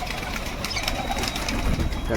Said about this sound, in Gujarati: તમે અડધા કબૂતર ભડકાઈ ગયા ને તો એ ઉપર વહી ગયા છે